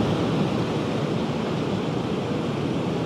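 River water rushes through a dam in Switzerland as a loud, steady, broad roar with no letup and no voices.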